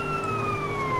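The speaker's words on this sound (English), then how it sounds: "Oh, it's a police car." Police car siren in the video game GTA San Andreas, a brief steady wailing tone that glides slowly downward, fairly loud and close, with no talk.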